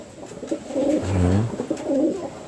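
Breeding pigeons cooing in a loft as the cocks perform a mating display, low rolling coos repeating in a soft rhythm close by, with faint background noise and no talking.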